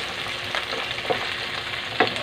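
Tomatoes added to browned pork, garlic and onion in a hot pan, a continuous sizzle with a few sharper crackling bursts, close and moderately loud.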